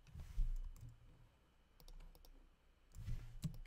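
Keyboard shortcuts are tapped while working in Photoshop: a few quiet scattered key clicks and mouse taps in separate bursts, near and faint, over a low background rumble.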